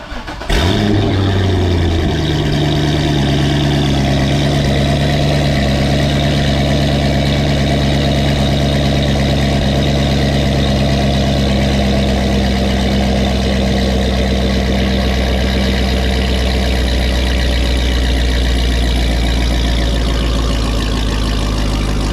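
A Chevrolet Corvette C6 with a catless exhaust fires up with a sharp crank and bark, then settles into a loud, rumbling, deep idle that holds steady for about twenty seconds, close by with no voices.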